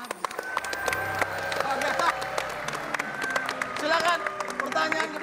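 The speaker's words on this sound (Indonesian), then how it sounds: "Tepuk tangan lu buat Papa." Studio audience clapping and cheering on a Ramadan pre-dawn comedy show, a busy crowd burst with tonal music cues and voices over it.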